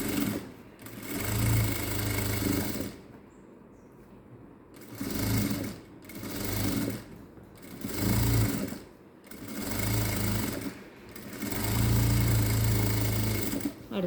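A sewing machine stitches the lining of a princess-cut blouse in several runs of steady, buzzing motor hum. Each run lasts a second or two, with short quiet gaps where the fabric is adjusted.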